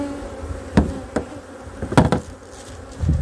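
Honey bees drone around an opened hive while frames are handled, a steady close buzz broken by several sharp knocks and clacks of wood, with no voices.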